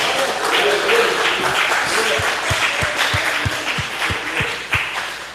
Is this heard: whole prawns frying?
no